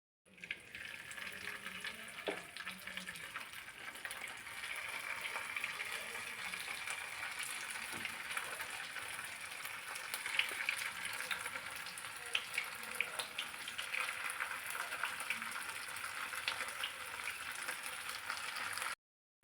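Cauliflower pieces frying in hot oil give a steady, close hissing sizzle that runs unbroken throughout, with faint clinks and splashy crackles scattered over it.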